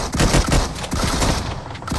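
Rapid, dense bursts of automatic gunfire in a mobile battle royale squad match fill the whole moment, loud and continuous, with no break for talk.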